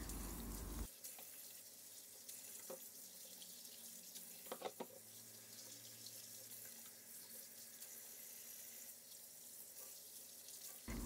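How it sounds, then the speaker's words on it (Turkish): Cleaned anchovies are rinsed under a running kitchen tap, with a steady rush of water and occasional clinks and splashes as the fish are handled in the sink. "Bol su yardımıyla temiz olana kadar yıkıyorum."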